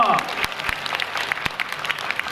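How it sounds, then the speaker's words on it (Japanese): An audience at a Dragons baseball fan stage event applauds for former player Hikono Toshikatsu, a brief burst of crowd clapping with scattered sharper claps. "もう拍手を送りください"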